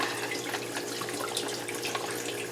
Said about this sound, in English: Make sure the water bubbles up. This is still hot water. Get it to bubble up.